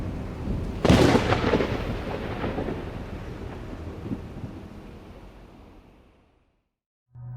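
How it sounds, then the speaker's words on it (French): Thunder for a sound design reel cracks in sharply, then rolls and rumbles low and heavy for several seconds before fading into silence, with a faint low hum returning at the end. "je sais que j'ai entendu des coups de tonnerre et d'autres sons que la nature ne prononce que dans ses humeurs les plus folles"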